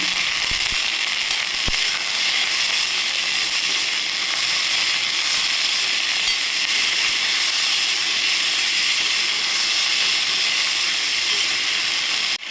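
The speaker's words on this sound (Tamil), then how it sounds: "நம்ம கொஞ்சமாக உப்பு போட்டு நல்லா வதக்கிக்கலாம்" Turkey berries (sundakkai) sauté with salt in a pan, a loud, unbroken hissing sizzle throughout with a few faint knocks at the start and no voices.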